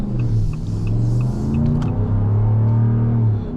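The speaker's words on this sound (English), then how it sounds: "That nice V8 rumble underneath you." A 2026 Ram 1500 Laramie with a naturally aspirated HEMI V8 rumbles steadily and deeply while driving, its low throbbing drone continuous and close with slight swells in pitch.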